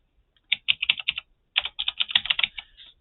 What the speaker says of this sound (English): I type it once and it's already filled in both of them